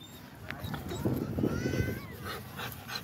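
A Rottweiler gives thin, high whimpers and small whines while wanting to play, close by amid shuffling and breathy movement noise, at a low level.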